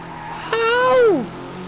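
An all-wheel-drive car's engine revs upward in the racing game Drive Club, a loud, smooth rising whine held for about half a second before dropping away, heard alone.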